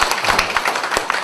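Brief burst of clapping at a Korean volunteer society's anniversary ceremony and year-end party, several hand claps close and loud, with no talking.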